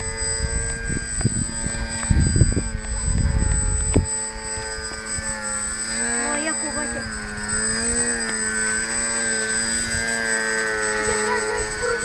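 An airplane drones steadily with a tonal engine hum that holds throughout, while people talk nearby and a rumbling burst comes early on.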